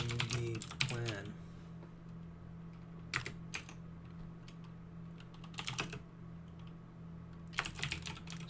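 Fingers tap on a computer keyboard in scattered quick bursts of clicks separated by pauses, faint over a steady low hum.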